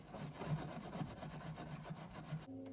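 Rust scraped off the brake master cylinder of a 1971 Dodge Charger Super Bee: rapid, rhythmic back-and-forth rasping strokes, close and steady, cutting off abruptly at the end.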